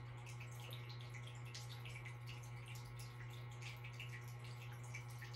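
Water flows steadily and softly, a continuous gentle splashing trickle like a small fountain or running tap, faint and unbroken with no voices.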